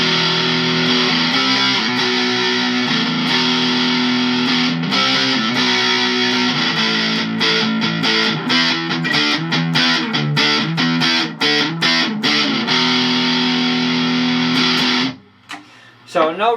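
An electric guitar through a TC Electronic Fangs Metal Distortion pedal, heavily distorted with a scooped tone and no reverb, plays chugging riffs and sustained chords up close, ending in a few choppy stabs.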